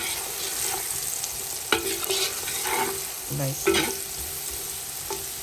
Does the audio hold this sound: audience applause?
no